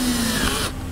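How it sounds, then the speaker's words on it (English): Small drill bit boring into the head of a plastic bumper-cover rivet on a 2011-2013 Jeep Grand Cherokee, a brief close whining buzz that cuts off abruptly. "What I do is try to line up as close to the center as possible and start drilling"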